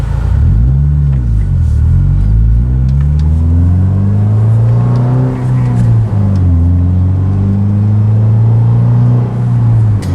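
Deep, steady engine drone from inside a Subaru Impreza with an EJ25 engine and Magnaflow exhaust at idle, a low rumble that rises and falls slightly in pitch, continuous and fairly loud throughout.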